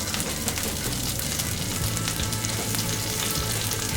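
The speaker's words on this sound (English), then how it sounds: "In a pan, add the extra virgin olive oil, the garlic, the bunch of parsley" Garlic and a bunch of parsley sizzle in extra virgin olive oil in a pan, a loud close steady crackling hiss with dense tiny pops and no talk.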